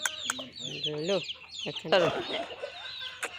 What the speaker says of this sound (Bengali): এই মুরগিগুলো হচ্ছে এই খোয়ারে